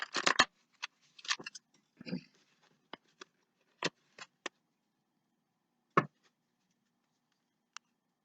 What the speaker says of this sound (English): My hands just keep shuffling this deck.